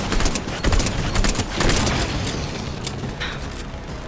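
Rocket launcher fire and explosions during a live event in Fortnite, a loud dense barrage of booms and blasts rolling continuously throughout with no pauses.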